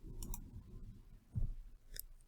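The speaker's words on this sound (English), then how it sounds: "On your keyboard, press key F5" A computer keyboard's F5 key pressed, giving brief close clicks against a faint room hum, with no talking.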